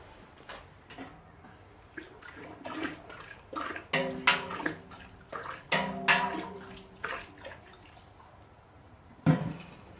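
Beer mash being stirred in a three-vessel all-grain brewing setup for an amber ale, giving irregular liquid sloshes and splashes at close range, with louder swirling strokes in the middle and a sharp splash near the end.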